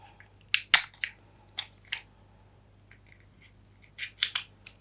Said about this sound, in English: It's sealed, so I'm going to have to rip this one open.